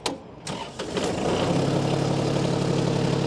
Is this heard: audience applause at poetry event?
no